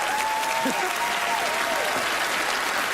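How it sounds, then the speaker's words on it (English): Studio audience at a magic show applauding as a volunteer heads up to the stage, a steady dense wash of clapping with a performer's voice briefly audible over it. "let's have a round of applause for him as he makes his way out"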